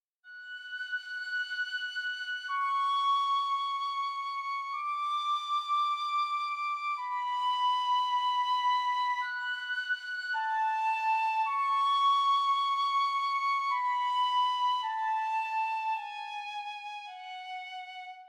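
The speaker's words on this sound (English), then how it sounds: "I made this simple melody using the flute" A sustained orchestral flute patch from BBC Symphony Orchestra plays a simple, slow melody of long held notes stepping up and down, clear and alone with no accompaniment.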